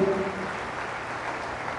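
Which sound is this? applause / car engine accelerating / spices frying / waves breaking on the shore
applause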